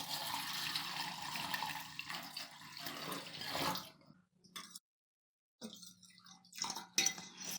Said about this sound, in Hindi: 2 गिलास हम इसमें मजीद पानी ऐड कर देंगे।